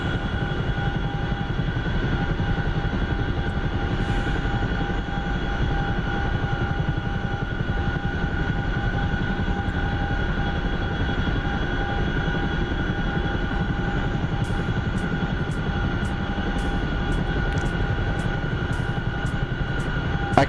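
Steady, loud engine drone fills the cabin of an aircraft during a night flight, descending at about 160 knots toward Paphos, an even hum with faint ticking near the end.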